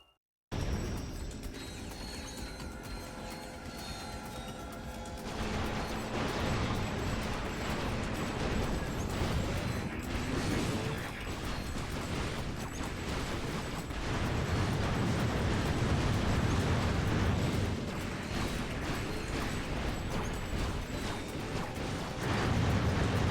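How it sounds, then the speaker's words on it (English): Magma Cannon weapon firing in the video game Ratchet: Deadlocked on Hero Mode, with heavy repeated blasts and eruptive bursts over a dense, continuous layer of game combat noise. "I was gonna try to use this as the mission where I just do Magma Cannon only"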